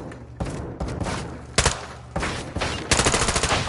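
Loud, close gunfire in the video game Modern Warfare II, with several single heavy shots followed by a rapid burst of automatic fire.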